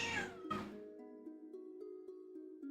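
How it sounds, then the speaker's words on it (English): A pet cat meows once, loud and close at the start, then a second short call follows. Faint sustained tones from a game play quietly behind it, and nobody speaks. "My cat's here to say hello."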